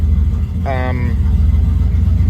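A car on a standalone EFI setup idles steadily with a constant low rumble, while a voice briefly cuts in over it partway through.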